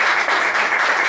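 Audience at a literary conversation event breaking into steady, dense applause, a continuous wash of many hands clapping for about a second.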